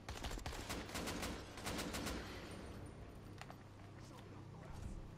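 Rapid video game gunfire in Dying Light during co-op play, bursts of crackling shots over continuous game noise, with players talking over it.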